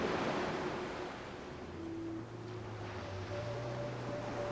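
Ocean surf washing steadily along a shoreline, a dense continuous roar of breaking waves with some wind buffeting, no voices.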